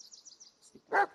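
A dog barks once, short and faint, in the horror game Blair Witch, following a run of soft high chirping tones in an otherwise quiet scene.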